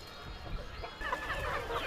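Free-range chickens on a hillside farm cluck softly and intermittently against a low, continuous outdoor background, fairly faint and at a moderate distance.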